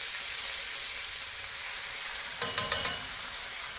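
Thin-cut pork slices fry in a wok with a soft, steady sizzle, then a brief burst of four sharp clatters from stirring or moving the slices.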